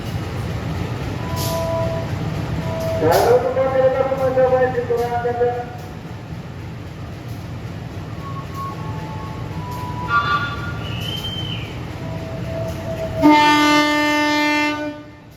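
The KA Majapahit economy train pulls out of Solo with a steady rolling rumble inside the carriage, and its locomotive horn sounds several times. A voice speaks over the noise.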